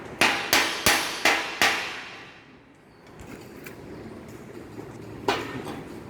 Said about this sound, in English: By using this hammer, we can remove the slag formed over the welded area.